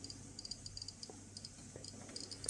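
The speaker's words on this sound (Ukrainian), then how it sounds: "Ви чуєте поклацання по щелчкам, як покази виросли." A Geiger counter dosimeter with an SBM-20 tube, rapid irregular clicks ticking close and fairly faint over a steady electronic hiss, with no voices.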